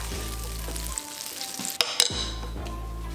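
Shrimp sizzles steadily in a hot pan with oil, a continuous bright frying hiss broken briefly by a few clinks and stirring knocks before the sizzle resumes.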